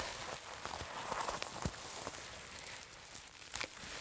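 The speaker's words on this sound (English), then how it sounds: "rustling sounds of the sequins and the material being moved around, but you also have almost the crunching of the material" Sequin fabric is rubbed and moved by hand, giving soft, close rustling and crinkly crunches with scattered sharper ticks, quiet and steady with no talking.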